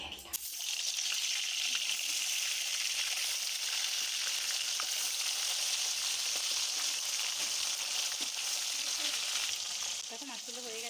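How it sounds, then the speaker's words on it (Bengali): Continuous bright hiss of hilsa fish lightly frying in hot oil, close and even throughout, with a few faint clicks near the end. "ঝোল বানানোর জন্য ইলিশ মাছগুলো একটু হালকা করে ভেজে নেব।"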